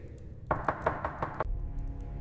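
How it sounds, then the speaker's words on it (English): Knocking on a door: a run of six firm, evenly spaced knocks, close and fairly loud, then the knocking stops and only a low background hum remains. "The knocking stopped."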